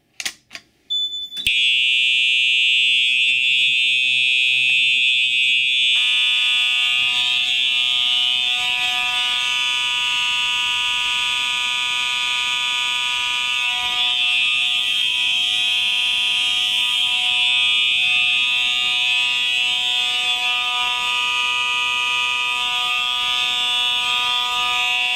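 A high school fire alarm system under test, set off from a pull station and control panel, sounds a loud, continuous alarm tone that runs unbroken for more than twenty seconds after a few brief opening chirps.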